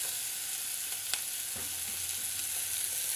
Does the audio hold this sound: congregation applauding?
no